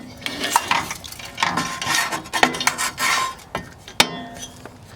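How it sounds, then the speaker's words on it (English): Rusty car battery bracket being sanded by hand, close and uneven, with irregular rasping strokes and a sharp clack near the end. "I'm gonna take this out and sand it."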